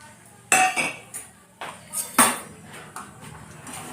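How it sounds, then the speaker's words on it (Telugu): Peanuts being tipped into a batch of Telugu-style spicy boondi mixture, giving a few sharp clinking, rattling bursts with short pauses between them, close up, without talk. "ఇందులోకి పల్లీలు వేస్తున్నాం ఇదిగో పల్లీలు"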